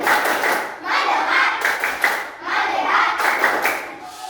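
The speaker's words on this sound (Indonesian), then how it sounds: "Tepuk konsentrasi." Students in a classroom do the tepuk konsentrasi clapping chant, patterned bursts of hand claps with children's chanting voices, repeating in short rhythmic groups at close range.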